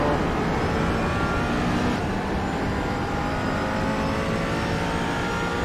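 Engine of a McLaren 570S GT4 in a sim racing game at Okayama: a steady, loud, continuous engine drone with a near-constant pitch and no clear gear changes or pauses.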